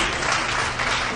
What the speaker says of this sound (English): Can we have an applaud for him, please?